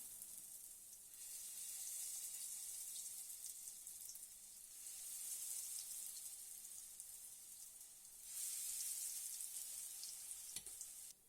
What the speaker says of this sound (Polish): Teraz wykładam porcję ciasta na patelnię formuj, łyżką, formując placki.